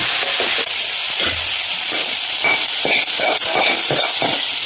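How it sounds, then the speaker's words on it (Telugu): Steady crackling sizzle of herbs frying in hot oil, a continuous bright hiss with occasional louder pops, close by and without voices. "కొత్తిమీర పుదీనా మంచి ఆయిల్లో ఫ్రై అయింది"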